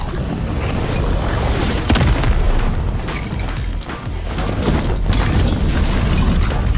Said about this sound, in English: Explosion, explosion!